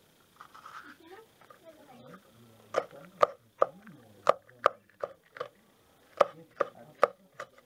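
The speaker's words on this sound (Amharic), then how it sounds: "ቃሪያ ልንከትፍ ነው።" Knife chopping chili peppers on a cutting board in a home kitchen, a series of sharp close taps in an irregular rhythm, with quiet speech and handling sounds before the chopping begins.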